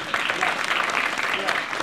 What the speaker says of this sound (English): Round of applause for our king.